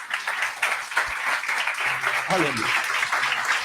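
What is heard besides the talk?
applause for Jesus in church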